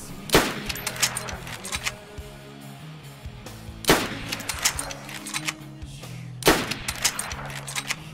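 Gunfire in the video game DayZ strikes a wall: three loud bursts of rapid automatic shots spaced a few seconds apart, each followed by a short run of echoing reports, with no talk.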